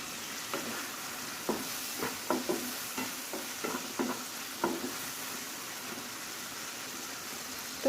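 Minced meat fries quietly in a pan with freshly added garlic, giving a soft steady sizzle broken by scattered scraping and stirring knocks from a utensil, with no voices.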